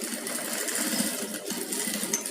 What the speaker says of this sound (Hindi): यहाँ भी एकदम चेन के नज़दीक सिलाई लगा लेनी है।